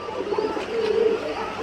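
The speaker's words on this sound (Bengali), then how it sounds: "এখানে আরও এক জোড়া লাহরি কবুতর" A large pair of Lahori pigeons, a male and a female, coo softly in repeated low, rounded phrases up close, with no talking over them.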